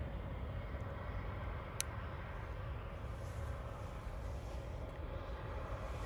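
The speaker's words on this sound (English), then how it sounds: "Let's go for the next takeoff, yeah?" Lufthansa CityLine airliner on its takeoff roll, a steady broadband engine roar held at an even level throughout, with no talk over it.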